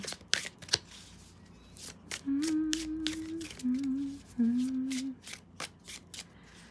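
Tarot cards shuffled by hand in a series of sharp, riffling bursts, with a faint hum and a voice humming or murmuring softly under the shuffling in the middle.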